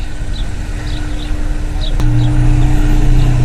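Supercharged Honda S2000 engine idling and revving in a garage, a steady close mechanical drone with a faint whine that grows slightly louder and deeper partway through, no talking.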